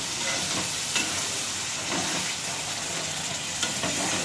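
Tomato paste hitting a hot pan of fried spices for a vegetarian paneer dish, giving a steady, loud sizzle and hiss with faint stirring, continuous throughout with no voices.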